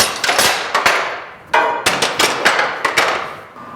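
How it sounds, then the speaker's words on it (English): Metal clamps come off a glued wooden shelf and are hung up, producing a series of sharp, close clanks and knocks at irregular intervals, loud and isolated. "we can unclamp it and hang up the clamps"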